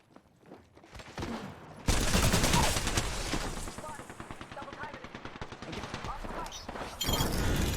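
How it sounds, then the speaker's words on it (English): Rapid automatic gunfire from an Apex Legends match, dense bursts of shots close by with a sharp burst near the start and another at the end, continuing steadily with faint footsteps and impacts mixed in. "Shots fired, and they're hitting me."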